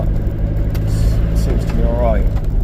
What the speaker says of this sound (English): car seems to be alright in drive.